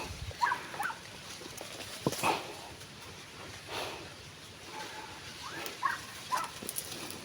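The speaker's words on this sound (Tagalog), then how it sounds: "may dala pa silang mga aso" Dogs whimpering and yelping in short scattered bursts over a noisy background, a few sharper cries standing out.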